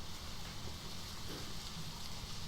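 Steady, faint rain falls in the horror video game Deadly Premonition, a soft continuous hiss with no distinct drops and no other sounds.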